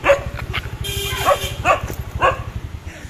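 A dog barks in short bursts at a street market by a garage, over a steady low mechanical hum, with a few sharp yips spaced across the moment.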